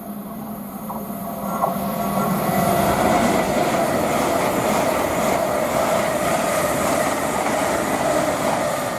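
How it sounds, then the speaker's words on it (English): A pair of Class 805 trains passes on the West Coast Main Line at Tamworth, a loud steady rumble of wheels on rail with faint squeals and rhythmic clatter, rising soon after the start and holding close by. "the next train to pass by, we've got a pair of 805s heading to Chester"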